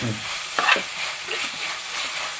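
Sliced onion and small red onions sizzle in a pan with salt, a steady hiss broken by a few scraping strokes of a stirring spoon.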